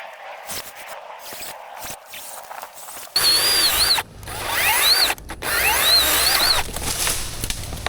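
An Osuka cordless chainsaw starts with a sudden loud whir and cuts a tree in several bursts separated by brief pauses, after a quieter stretch of rustling and handling.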